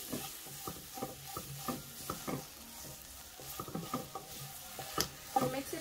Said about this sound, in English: Stir everything together here.